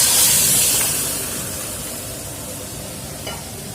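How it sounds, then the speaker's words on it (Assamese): Boiled masoor lentils and bamboo shoot khar are poured into a hot pan of fried ingredients for a traditional Assamese dish, then stirred. A loud hiss and sizzle bursts up at the start and settles into a softer, steady bubbling simmer. "আমি এতিয়া এয়া সিজাই লোৱা মচুৰ দালি আৰু বাঁহ গাজৰ খাৰখিনি ইয়াতে ঢালি দিম।"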